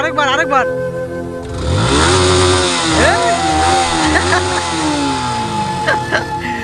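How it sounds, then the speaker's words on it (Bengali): A motorcycle engine starts up and revs unevenly as a learner rides, the motor droning close by with rising and falling pitch while people talk over it. "বাইক চালানো তো শিখে গেছো অঙ্কুশ।"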